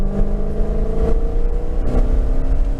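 Dodge Challenger Widebody engine pulling hard on a race track, a loud steady roar with rising harmonic tones through the whole stretch, heard from inside the car with no talk.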